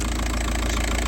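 A VW Passat B5.5 with the PD130 diesel engine idles steadily just after a turbo change, giving a close, even, low-pitched running note with a regular pulsing rhythm and no talking.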